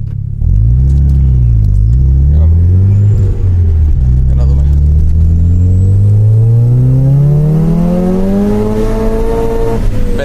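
A car engine, from a Mazda RX7 FC versus Honda S2000 comparison, idles and then revs, its loud close pitch dipping, settling and climbing steadily, with someone speaking over it.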